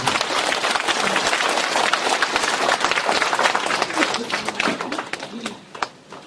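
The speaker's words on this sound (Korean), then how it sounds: "우리 이현숙 선생님께 다시 한번 큰 박수 드립니다" Audience applause at a humanities forum for a performer, a loud dense burst of clapping that runs steadily and then thins out and fades near the end.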